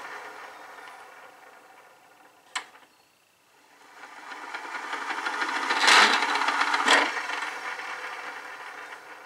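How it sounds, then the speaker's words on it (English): Gears turn inside a Hayward pool vacuum during repair as a faint, quiet mechanical whir and rasp. There is one sharp click early, then a swelling grinding rattle with brief scrapes. "You hear all the gears running inside."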